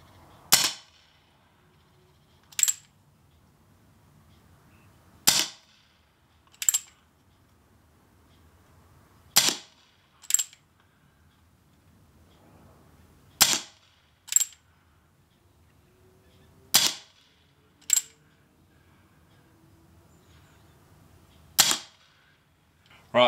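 A Crosman Remington 1875 air pistol shoots BBs at targets, about a dozen sharp, close cracks spaced a few seconds apart over quiet background, with faint talk in between.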